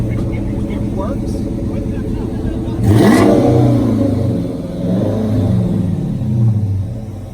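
A Mopar car with Hooker Shorty headers and Flowmaster 40 exhaust with the resonator deleted revs hard at a Mopar festival, a deep rumbling engine swelling in bursts while people talk nearby.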